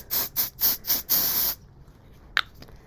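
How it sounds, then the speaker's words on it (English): Five short hissing bursts of mold release spray into a casting mold in quick succession, the last held a little longer, followed by quiet and a faint click. "you're going to spray that into your mold"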